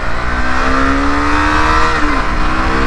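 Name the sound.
Suzuki V-Strom 650 XT motorcycle accelerating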